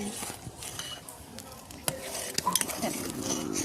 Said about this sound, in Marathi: हलवतो मी. आता हिच्या गुठळ्या होऊ नये म्हणून